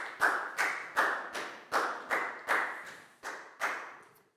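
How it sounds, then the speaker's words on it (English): A classroom of Year 4 students claps for a classmate during a science lesson, a few separate bursts of claps falling in a steady rhythm, moderately loud and close, with no talking. "a big round of applause for Nadia"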